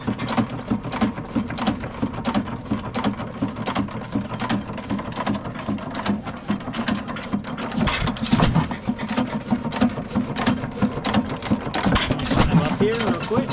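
A Faultless 6 HP engine runs steadily up close, its piston thumping in a fast, even mechanical rhythm with clicking and clattering, and a couple of louder bursts partway through.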